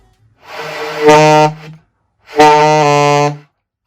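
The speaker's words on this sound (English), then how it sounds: "sometimes when people play low notes, it may sound a little bit like this" A weak low saxophone note sounds thin and buzzy, breaking into a brighter, harsher tone, then a second similar strained note follows.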